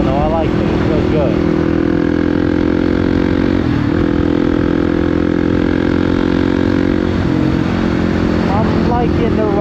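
A motorcycle engine hums steadily while riding, the tone shifting slightly as revs rise and fall, with a rider's voice speaking over it.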